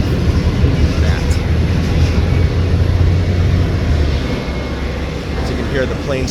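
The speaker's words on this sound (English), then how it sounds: "As you can hear the planes taking off" Aircraft engine roar from planes taking off at the airport near the southern Las Vegas Strip, a steady low rumble heard from a moving car on a sunny day, with traffic noise and talk in the background.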